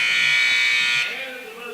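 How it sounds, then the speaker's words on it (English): A loud electronic final buzzer at a girls' high school basketball game sounds as one sustained blaring tone for about a second, then cuts off into fading arena ambience. "that'll be the final buzzer"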